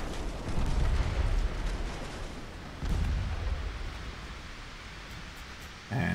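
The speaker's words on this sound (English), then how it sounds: "Boom! Torpedo." Torpedo strike exploding against a warship in a naval battle game, two heavy low booming blasts with rumbling broadband roar, the second about three seconds after the first, followed by a sharp jolt near the end.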